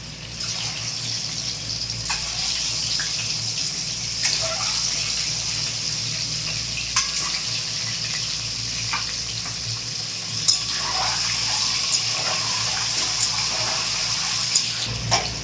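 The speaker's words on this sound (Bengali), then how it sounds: "তো ডিমগুলোকে ভেজে নিচ্ছে" Whole eggs coated in turmeric and salt fry in hot oil, a steady loud sizzle running throughout with occasional sharp pops and spatters and a few soft utensil knocks, close by and without speech.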